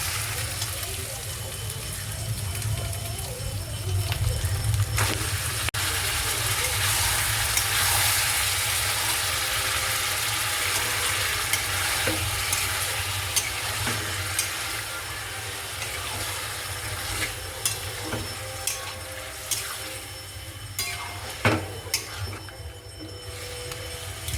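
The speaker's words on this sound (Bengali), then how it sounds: "পেঁয়াজ আর রসুনের পেস্ট কাজু বাদাম দিয়ে মানে ভাজছি গ্যাসটা" Onion and garlic paste frying with cashews on a gas stove: steady oily sizzling fills the first half, then eases into quieter hissing punctuated by scattered clicks and taps of stirring.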